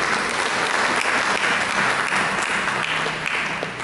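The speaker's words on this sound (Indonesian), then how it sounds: "Berikan tepuk tangan bagi Yesus" A church congregation applauds for Jesus during a sermon, loud sustained clapping from many hands filling the whole moment without pause.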